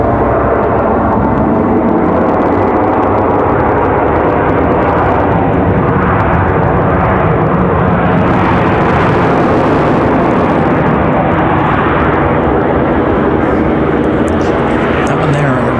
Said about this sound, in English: That one there, really, really loud touchdown.